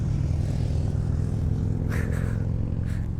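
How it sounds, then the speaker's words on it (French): Low, rumbling Harley motorcycle engines drone steadily, with a few quick passing swells near the end, somewhat distant and continuous. "on a plein de motos qui passent là"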